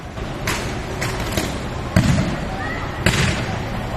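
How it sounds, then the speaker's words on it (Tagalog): Sharp popping bursts from electrical wires on a power pole in Quezon City at night, several cracks spaced irregularly over a steady background hum and murmur, each with a brief crackling tail. "Sunod-sunod ang pagputok ng kawat sa poste ng kuryente."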